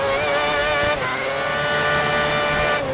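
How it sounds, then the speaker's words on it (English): Mercedes race car engine on a qualifying out lap in a racing video game, a loud, continuous high-pitched whine holding steady with a brief dip near the one-second mark as the gear shifts. "here we are in the Mercedes on our out lap before we start our flying lap in qualifying"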